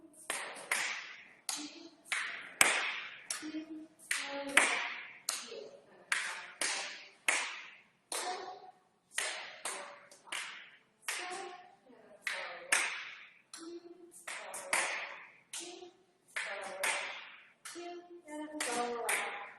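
Hand claps and snaps keep a steady beat through a power yoga dance routine, sharp and repeated every second or so, mixed with an instructor calling out steps over the rhythm.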